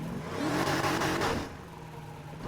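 Supercharged car engine in Need for Speed: Heat revving hard with a rising whine, loud and close, then easing off to a lower steady drone.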